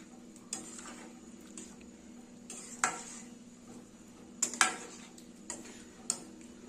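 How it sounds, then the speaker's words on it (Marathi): Potato curry being stirred with kasuri methi in a pan: soft scattered scrapes and clicks of a spoon against the pan at irregular intervals over a quiet low hum, no voices. "हे व्यवस्थित असं आपल्याला मिक्स करून घ्यायचं."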